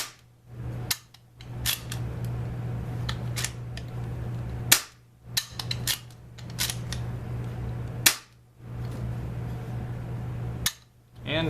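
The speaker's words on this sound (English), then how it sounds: "From there, you should be able to fire." A Marksman Repeater air pistol firing repeatedly, sharp snapping shots and mechanical clicks at irregular intervals across the clip, close and crisp over a low hum.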